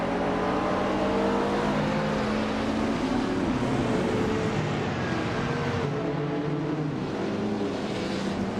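A classic 1970 Porsche 914/6 race car in a racing video game, its engine roaring loud and steady with rising and falling pitch as other cars drone close by, no talk.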